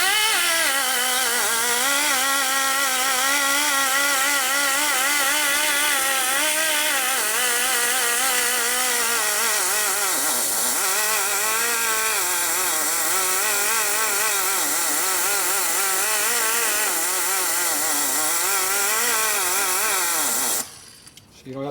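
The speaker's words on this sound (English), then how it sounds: "grind the lip down until you start catching into the cylinder. This is the combustion chamber" Handheld grinder blending down the combustion chamber lip of a 1966-74 Harley-Davidson shovelhead cylinder head during blown head gasket repair, a steady loud whine that wavers in pitch with load for about twenty seconds before cutting off.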